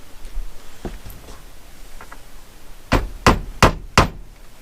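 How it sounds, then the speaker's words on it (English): A hammer drives a nail into a piece of timber: four loud, sharp strikes in a steady rhythm near the end, after a few fainter taps earlier, with no talking. "the nail is now fixed into the piece of timber down here that you can see"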